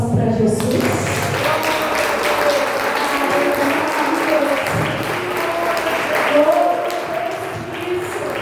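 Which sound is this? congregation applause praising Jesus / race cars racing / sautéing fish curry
congregation applause praising Jesus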